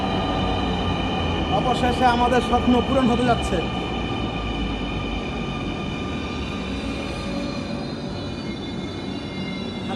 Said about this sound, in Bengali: মেট্রো রেল চলে আসছে